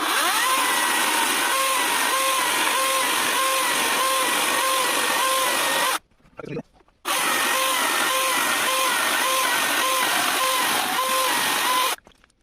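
A Vitals Professional AKZ 3 cordless chainsaw cuts through wood in a battery endurance test, a loud, close buzzing whine with a rhythmic pulse, stopping briefly midway and again at the end before resuming.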